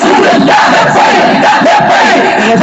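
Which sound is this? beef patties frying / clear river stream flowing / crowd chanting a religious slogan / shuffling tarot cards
crowd chanting a religious slogan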